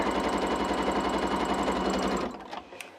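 A sewing machine runs fast and steady while stitching strips for a quilt block, a close, loud rapid chatter that stops abruptly near the end, leaving a few faint clicks.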